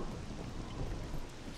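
Rain pours steadily with low thunder rumbling underneath in the Scum survival game, a constant dense hiss and rumble with no voices.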